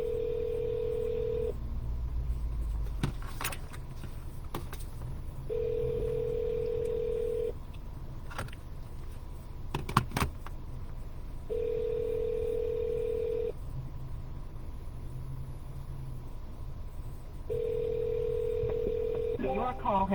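Phone calls placed from a car to property listings in Sacramento, California: repeated ringback tones sound in regular bursts, with faint dialing clicks between them, and a voice speaks at times.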